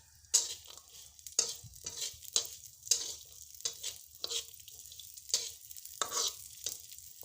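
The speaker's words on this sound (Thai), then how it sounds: "คั่วพริกหอมกระเทียมก่อน" Chili, shallots and garlic dry-roast in a pan, with a soft crackle and a series of sharp scraping strokes of a spatula at an uneven rhythm, close and fairly quiet, with no talking.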